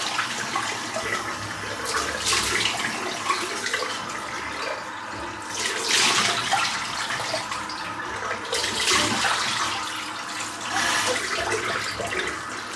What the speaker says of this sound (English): let's rinse this brush out